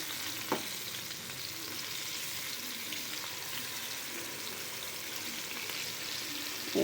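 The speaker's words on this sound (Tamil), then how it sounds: "லோ ஃப்ளேம்லேயே வச்சு கொஞ்சம் வறுத்து எடுத்தோம்னா நல்லா ரோஸ்ட்டாக வருங்க" Rock fish (paarai meen) frying over a low flame, a steady soft sizzle and crackle of oil throughout, with a couple of brief clicks as the fish is turned.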